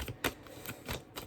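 Tarot cards are shuffled in soft, quiet bursts, several papery riffles and taps spaced irregularly and heard close with no talking.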